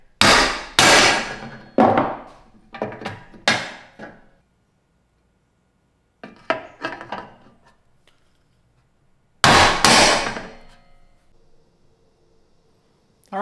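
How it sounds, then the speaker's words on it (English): A rubber mallet whacks L brackets into the corners of an Evolution folding metal saw horse: loud close thumps with metallic clanks, first in a quick cluster, then a pause, a softer burst and one more heavy strike. "you just wanna get yourself a rubber mallet and just punch these guys in"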